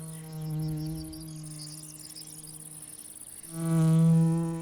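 A Sphex digger wasp lifts off carrying a paralysed longhorn cricket, a steady close insect buzz with strong harmonic drone that dips midway and then swells louder as it becomes airborne.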